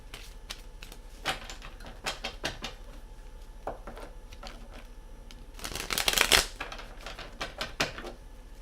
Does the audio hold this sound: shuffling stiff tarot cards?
yes